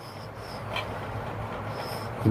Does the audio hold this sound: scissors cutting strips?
no